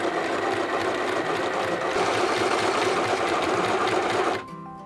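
A Hobbycraft Midi sewing machine winds a bobbin with a steady, close, continuous whirring hum that runs evenly for several seconds before cutting off abruptly near the end.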